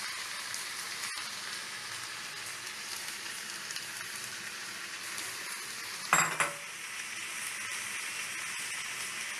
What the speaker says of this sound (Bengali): চালটাকে এবার ভালো করে এর সঙ্গে মিশিয়ে নেব।